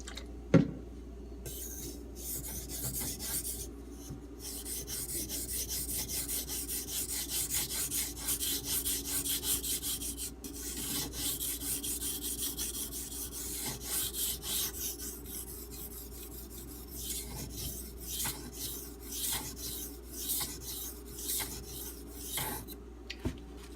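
A knife blade stroked back and forth across an RH Preyda Arkansas water stone in the 3k to 6k grit range, a continuous close rasping scrape with steady rhythmic passes and a few sharp clicks, no voices.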